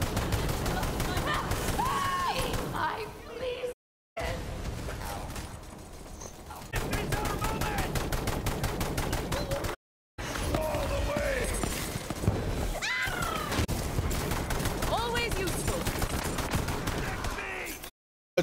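Rapid automatic weapon fire in Borderlands 3, dense sustained bursts with shattering impacts and game effects, broken by brief silent cuts, with a player talking over it.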